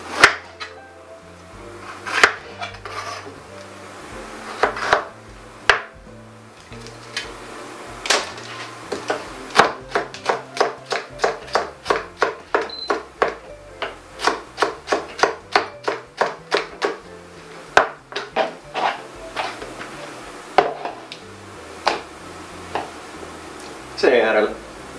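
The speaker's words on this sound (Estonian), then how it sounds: "hakime ära sibula" An onion is chopped with a knife on a board, a fast run of sharp, evenly spaced taps that speeds into dense rhythmic bursts, close up, with a voice carrying alongside.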